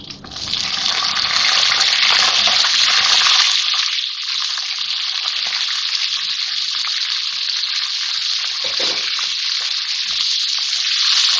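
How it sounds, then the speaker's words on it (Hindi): Green chilies sizzle in hot oil with cumin and garlic, a loud, continuous hissing fry that begins with a brief rougher crackle and then settles into a steady bright sizzle throughout. "थोड़ा सा मिर्चों को फ्राई करूँगी मैं इसके साथ"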